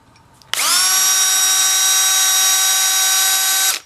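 A variable speed power drill drilling out a broken stud, starting abruptly and holding one loud, steady high-pitched whine for about three seconds before cutting off, with no voices.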